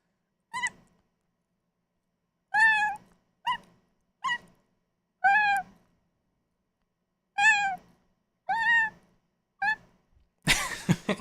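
A person imitates a cat, giving eight separate meows with pauses between them, close and fairly clear, followed by a short burst of rustling noise.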